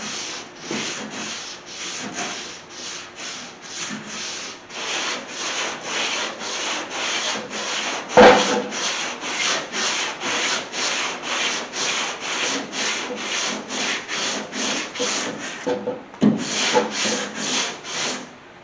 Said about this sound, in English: I'm just going to keep sanding